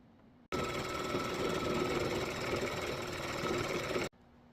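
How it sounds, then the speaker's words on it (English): Sewing machine stitching down both sides of tote bag straps: a steady, fast mechanical whir running evenly for about three and a half seconds, starting and stopping abruptly against a quiet room. "First, we're going to sew down both sides of our straps."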